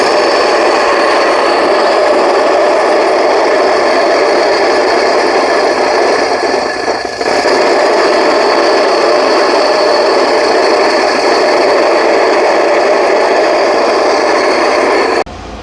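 Electric grain mill grinding wheat berries into coarse flour, a loud steady motor whine with gritty grinding that runs continuously, dipping briefly midway, then cutting off at the end.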